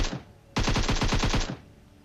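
Automatic gunfire in the battle royale game PUBG Mobile: one rapid burst of about a dozen loud, close shots lasting around a second, preceded by a brief fainter shot.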